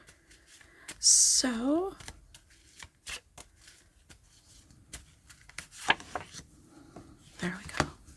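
Tarot cards being shuffled by hand at a table, a quick riffle followed by scattered soft slides and taps, close and moderately loud, while someone speaks briefly.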